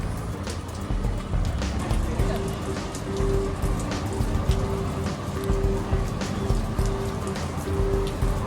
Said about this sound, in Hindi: मैंने सोचा आप लोगों को अपडेट दे देती हूँ कि बारिश आ चुकी है